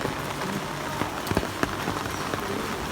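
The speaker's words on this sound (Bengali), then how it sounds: "এই যে পুরোটাই বৃষ্টি।" Steady rain pattering on surfaces with a constant hiss and occasional louder drips nearby.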